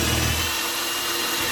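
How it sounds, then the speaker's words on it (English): A Dremel rotary tool fitted with a router bit cuts a hole through the wall of a van, giving a steady, close, high-pitched grinding whine that starts with a deeper rumble. "We cut this hole out with a Dremel and a router bit"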